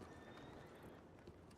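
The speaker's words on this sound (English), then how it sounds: "I own a Foxtrotter. It's right behind you." Hooves of a Foxtrotter horse in a video game clop softly and steadily, faint and somewhat distant, with no voices over them.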